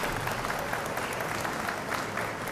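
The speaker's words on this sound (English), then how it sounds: "Please give these athletes a round of applause." Applause from a banquet audience for a high school swim team, a steady, even wash of many hands clapping, moderately distant and sustained throughout with no voices standing out.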